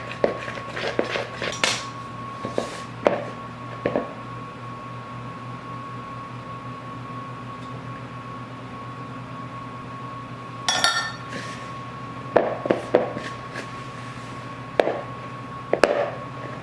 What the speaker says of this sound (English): So you just want to keep mixing this until it's well combined.